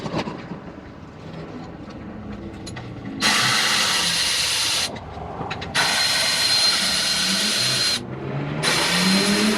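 Power tool whirring in bursts while nuts and bolts are removed from the lower plastic brace on a Can-Am Renegade ATV, with ratcheting clicks between runs; loud, close, and no talking.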